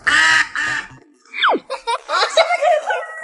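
A duck gives a few short, close nasal quacks, including one gliding squeal, amid giggly, laughter-like sounds.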